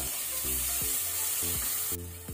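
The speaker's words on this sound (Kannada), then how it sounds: "ಈಗ ನಾವು ಇದಕ್ಕೆ ಜಿಂಜರ್ ಗಾರ್ಲಿಕ್ ಪೇಸ್ಟ್ ಶುಂಠಿ ಬೆಳ್ಳುಳ್ಳಿ ಪೇಸ್ಟ್ ಹಾಕೋಣ. ಅದನ್ನು ಸ್ವಲ್ಪ ನಾವು ಫ್ರೈ ಮಾಡ್ಕೊಳ್ಳುವ." Ginger garlic paste fries in a pan for a chicken and brinjal curry, giving a steady, close sizzle broken by several rhythmic scraping strokes of a spatula.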